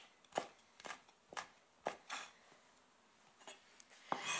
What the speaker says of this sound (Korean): 너무 얇지 않게 썰어줍니다.